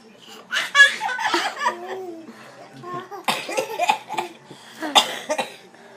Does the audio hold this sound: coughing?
yes